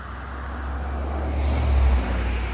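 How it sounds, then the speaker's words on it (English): A truck passes on an open road, a broad low rumble that swells as it draws close around the middle, then eases off, with no voices. "I'll let this truck go by."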